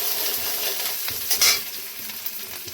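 Garlic, ginger and green chili crackle and sizzle steadily in hot oil as a tempering, with a louder burst of spattering midway and faint stirring scrapes throughout.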